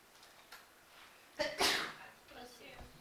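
A single sharp sneeze bursts out in a quiet room, preceded by a quick intake of breath and followed by soft rustling.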